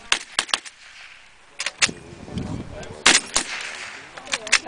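A WW2-era gun firing blank ammunition at a living history event, heard as a string of sharp, loud reports, some in quick pairs, over a murmur of outdoor crowd noise and faint voices.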